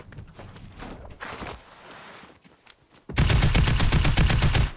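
Rapid burst of automatic gunfire from a technical AR rifle in a video game, loud and dense, coming after quieter game sounds and continuing to the end.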